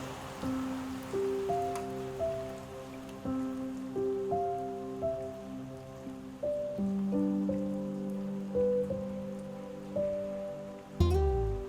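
Steady rain hisses in the background beneath a soft melodic tune, with a brief louder knock near the end.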